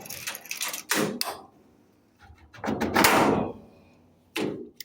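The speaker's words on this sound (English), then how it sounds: "Let me open the door." A house door in Koforidua, Ghana is unlocked and swung open, giving a few close clicks and rattles, a pause, then a longer scraping sweep and a final knock as it settles.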